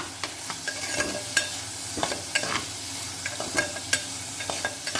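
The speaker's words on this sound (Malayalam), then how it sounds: "ഒരു ചെറിയ കഷ്ണം ഇഞ്ചി ഒരു മൂന്ന് ചുവന്നുള്ളി ഇതുപോലെ കട്ട് ചെയ്തത് അതും കൂടി ഇട്ടൊന്ന് വഴറ്റി കൊടുക്കാം" Chopped ginger, shallots and curry leaves sautéing in a pan for a fish curry, a quiet sizzle broken by repeated sharp clicks and scrapes of stirring, with no voices.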